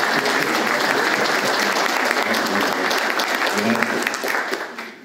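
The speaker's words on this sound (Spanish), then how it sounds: "Yo pido el aplauso también." Audience applause fills a history talk held by an Oberá historical studies society, a dense steady clapping that holds loud throughout before tapering off at the end.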